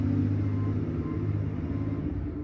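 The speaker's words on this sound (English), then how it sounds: "I'm gonna wait for our garbage truck to be done." A garbage truck's diesel engine idles with a low, steady rumble outside a house at night, constant and fairly close with no voices.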